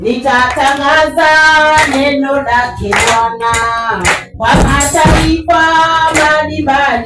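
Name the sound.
church congregation clapping hands along with a chorus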